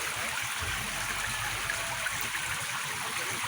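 A flood stream flows steadily outside a house, producing a constant broadband rush and trickle of water, moderately near and unchanging, with no speech.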